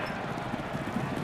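Racehorses break from the gate at the start of the Breeders' Cup Mile at Del Mar, a steady drumming of hooves in a dense, continuous rumble of galloping, heard at moderate loudness with crowd noise beneath.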